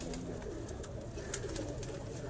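Pigeons cooing on a rooftop, a low, soft, continuous murmur of coos at a distance, faint beneath ambient outdoor noise.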